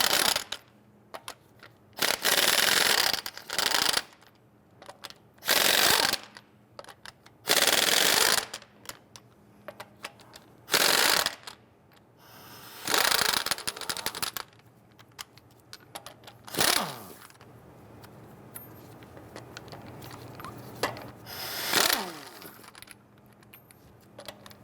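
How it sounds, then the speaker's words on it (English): Lug nuts on a 2011-2021 Jeep Grand Cherokee are loosened and removed with a 22mm socket. Loud, irregular bursts of tool noise stand out against quieter gaps, with metallic clinks between them. "Using a 22mm socket, loosen and remove your lug nuts."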